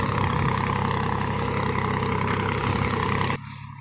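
A tractor engine runs in a field during sorghum sowing, a loud low rumble that holds steady for a few seconds and then drops abruptly to a quieter hum.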